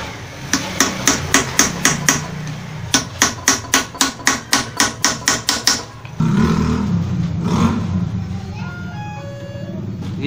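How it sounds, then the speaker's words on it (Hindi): A flat chisel struck with a hammer to loosen jammed screws on a pedestal fan: two loud, close runs of quick, evenly spaced metallic blows, followed by a few seconds of noisy handling and faint background sounds. "तो हमने ये एक फ्लैट छेनी लिया है। तो इसकी मदद से इसे हम हल्का हल्का चोट देंगे"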